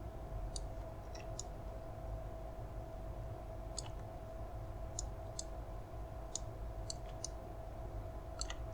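Mouse clicks from a 3D modelling session, arriving as a dozen or so sharp, quiet ticks spread unevenly over a steady low hum and faint background noise, each tick brief and close to the microphone.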